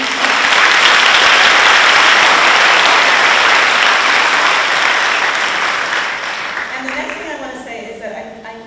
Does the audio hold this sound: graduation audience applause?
yes